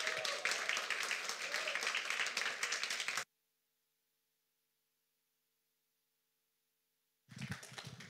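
Audience applause at a talk by an animation director, a dense wash of clapping for about three seconds, then a break into silence before clapping resumes near the end.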